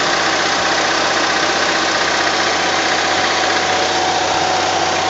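A boom truck's hydraulic pump runs steadily while driving a hydraulic cylinder, a loud, unbroken mechanical drone with a dense, even hum and no speech over it.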